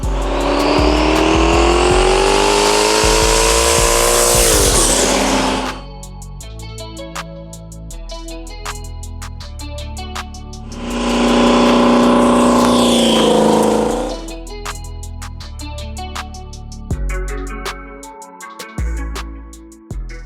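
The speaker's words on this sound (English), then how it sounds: "horsepower turbo Trans Am, 91mm turbo, 388 cubic inch LS on HOLLEY EFI, built 400, built rear end, Viking suspension" A turbocharged Trans Am with a 91mm turbo and a 388 cubic inch LS engine on Holley EFI revs hard in two long, loud bursts, each rising in pitch, with a choppy idle and lighter blips in between.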